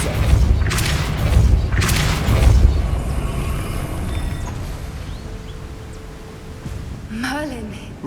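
A Depulso spell cast in the video game Hogwarts Legacy, heard as two heavy booming blasts early on, followed by a fading rumble and a short whooshing chime near the end.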